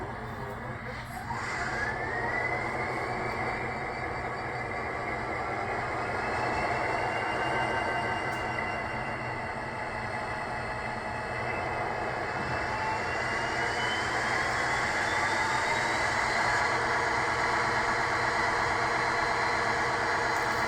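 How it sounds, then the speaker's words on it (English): A LokSound v5 equipped Rapido Metra F40PHM-2 model locomotive runs its diesel sound, a steady idling engine rumble with a rising whine layered on top, continuous for about twenty seconds at moderate volume. "Function 8 will turn on your locomotive."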